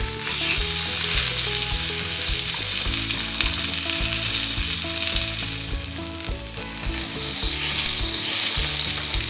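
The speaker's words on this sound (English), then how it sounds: "You'll just sear the ribs on the grill for about 3 to 4 minutes per side." Pork ribs placed meat side down sear on a grill with a loud, steady, close sizzle and crackle, and no voices are heard.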